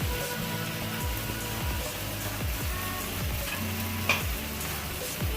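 Okra hits a pan of frying masala and sizzles steadily, with a constant close hiss while the pieces are stirred and shifted, plus one brief metallic clink partway through.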